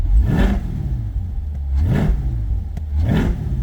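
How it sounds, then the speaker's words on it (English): A 2023 Chevrolet Corvette 2LT engine revs three times in loud, close bursts, each throttle blip swelling into a deep exhaust roar and falling back to a rumbling idle between them. "has a more throttle, more louder tone to the exhaust"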